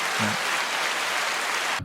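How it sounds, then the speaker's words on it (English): An audience gives a short round of applause on a live podcast episode. The dense, hissing clatter of many hands stays steady, with a brief low voice underneath, then cuts off abruptly. "So that gets a round of applause."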